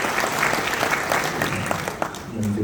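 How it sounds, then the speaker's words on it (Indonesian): An audience at an inauguration ceremony for a regional GAMKI youth organization board in North Sumatra applauds, a close, dense burst of clapping that holds steady then eases slightly, with a voice faintly audible at the end. "Berikan tepuk tangan buat Bang Darwin"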